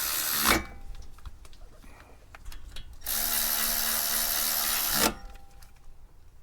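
Power tool tightening brake caliper bolts on a Toyota Venza 3.5L, with short bursts followed by a sustained two-second run of loud whirring, then quieter clicks and handling noises.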